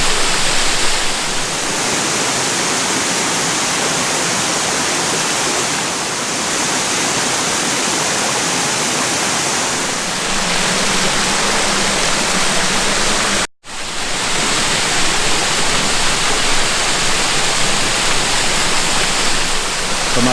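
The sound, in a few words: waterfall flowing over a cave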